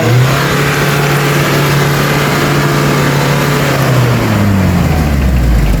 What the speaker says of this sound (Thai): ต้องพึ่งพารถไถ